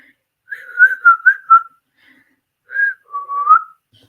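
A person whistles a short tune alone, a quick run of four bright notes followed after a pause by a longer two-part phrase, close and clear.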